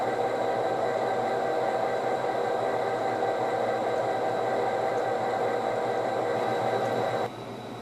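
A small weathered model GP-9 diesel locomotive runs with a steady motor hum and rolling rumble, close and constant, easing slightly at the very end.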